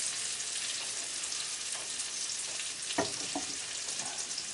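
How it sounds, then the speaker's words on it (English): Onions fry in a pan beside cooking burger patties, a steady, moderately loud sizzle that runs without a break, with a few faint clicks of a utensil and no one speaking. "I'm bringing these onions down here. Let them fry up a little bit quicker."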